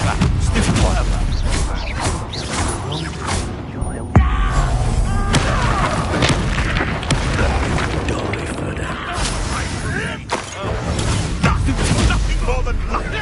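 Explosive Confringo spell blasts in the video game Hogwarts Legacy, with booming bursts and crackling impacts repeating loudly throughout amid dense combat noise while a voice talks over it.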